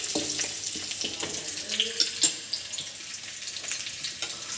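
Dried red chillies dropped into hot oil for a tempering of curry leaves, giving a steady close sizzle and crackle with a few sharper pops, heard alone without talk.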